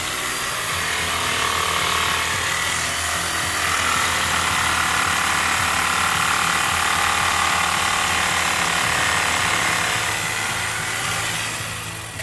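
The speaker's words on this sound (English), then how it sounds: "So the next thing I'm going to do is trim off a little bit of the heel so there's less to grind." A power tool whines continuously and loudly while cutting down the heel of a horse sneaker, a steady grinding drone with no pauses.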